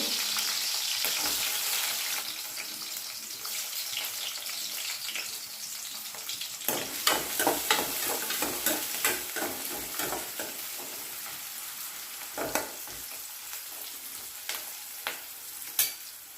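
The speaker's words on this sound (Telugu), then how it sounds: "ఆయిల్ వేడెక్కింది పచ్చిమిర్చి ఉల్లిపాయ వేసుకొని కలుపుకోవాలి" Green chilies and onions fry in three teaspoons of hot oil for an amaranth and meal maker curry, giving a steady close sizzle that turns busier with scraping stirs in the second half.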